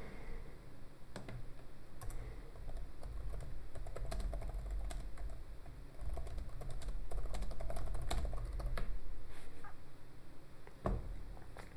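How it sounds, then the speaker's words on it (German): Keys clatter on the detachable keyboard of a Lenovo Miix 630 tablet running Windows 10 ARM, a steady run of close, light clicks with occasional louder taps and no voices. "Und ihr seht, ich bin schon mit dem Tippen fertig"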